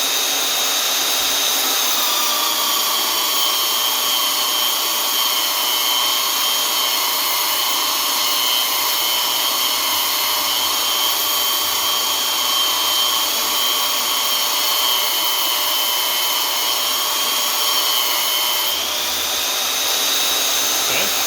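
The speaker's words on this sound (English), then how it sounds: "So this is getting sanded, while this is not." A tree cookie cross-section of wood is sanded to prepare it for dendrochronology, making a loud, continuous abrasive whir that runs steadily and close throughout, with only a slight shift in tone near the end.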